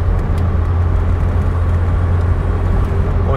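A 47-year-old car from 1976 drives along the road, its steady low engine and road rumble filling the cabin continuously at close range, with no talk.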